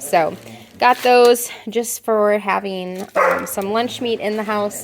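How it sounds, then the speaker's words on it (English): Dogs playing and fighting over a paper bag in a home kitchen bark and yip repeatedly in short bursts, fairly close, under a person talking. "Sorry, my dogs are fighting over a paper bag."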